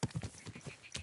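Horse hooves clip-clopping in Kingdom Come Deliverance 2 on PS5, a quick run of close, uneven thuds, with a brief whinny-like burst near the end.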